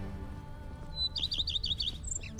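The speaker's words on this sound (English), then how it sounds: "birds are chirping" Birds chirp in The Witcher 3 on a morning game scene: a run of bright, rapid twittering calls clusters in the second half over a steady low ambient bed, with no talk.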